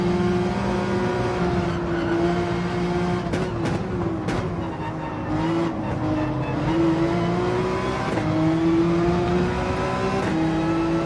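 Racing car engines in Gran Turismo 7 during an online race, a loud sustained drone that rises and falls in pitch as the cars accelerate and shift, continuous through the whole stretch with no talk.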